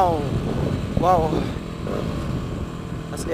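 A racing motorcycle engine runs steadily close by, its exhaust rumbling low, while voices chatter and exclaim over it.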